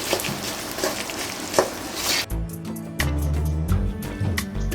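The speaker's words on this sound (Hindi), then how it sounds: "गुड़ को डाल देंगे हम इसके अंदर। तो गुड़ को थोड़ा मेल्ट होने देंगे" Jaggery melting in ghee in a pan, stirred on medium heat for a Janmashtami offering: a sizzling, scraping hiss at first, then a lower bubbling with spoon taps and knocks against the pan, close and steady.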